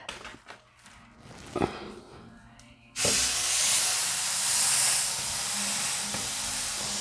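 After a few soft handling clicks, fat-side-down meat lands in a hot pan and erupts into a loud, sudden sizzle that stays strong and steady, a close, bright hiss with slight swells.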